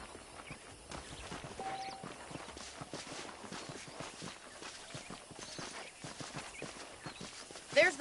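Saddled horses clop along in the Red Dead Redemption video game, their hooves making a steady, rhythmic stream of soft, fairly faint hoofbeats while voices talk over them.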